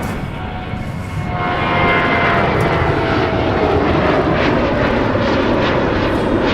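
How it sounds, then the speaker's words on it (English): An airliner rolling down the runway and lifting off at Minneapolis–St. Paul Airport, a loud steady engine roar that swells as thrust builds and holds strong through the climb, heard from a distance with no talk. "And they're rolling. Nose up. Rotate. Positive climb. Wheels up."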